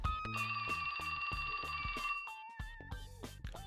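A cell phone rings with a bright electronic melodic ringtone, a rhythmic sequence of repeating tones with steady pulsing beats, loud and close, playing alone without speech.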